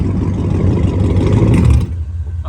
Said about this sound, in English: Angel's car sounds like shit.